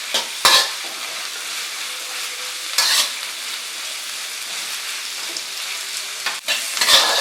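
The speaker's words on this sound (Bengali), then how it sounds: "এগুলোকে এবার আমি ফ্রাই করে নেব।" Chopped cabbage and onion fry over high heat for veg chowmein, a steady close sizzle broken by a few sharp stirring scrapes and tosses.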